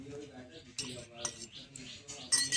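A spoon clinks quietly against a pot or bowl while custard powder is stirred into lachha semai, with a string of light, irregular metallic taps over a few seconds.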